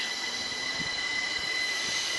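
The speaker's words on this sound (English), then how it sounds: "387114 is now ready to depart, forming the 1352 service to King's Cross." A Class 387 electric train, unit 387114, departs Baldock station on a service to King's Cross, giving off a steady electric whine and hum with faint wheel noise. It stays moderately quiet and even throughout, and no one speaks.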